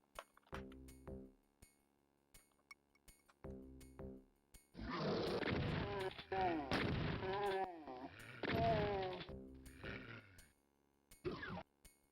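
Shotgun blasts in DOOM 2 ring out as a few sharp, punchy reports amid gritty monster growls and game sound effects, moderately loud and close without talk.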